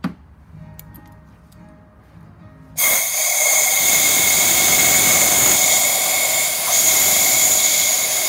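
Compressed shop air blasts into an engine cylinder of a Toyota RAV4 with a blown head gasket, starting abruptly after a quiet moment and holding as a loud, continuous hiss that runs to the end.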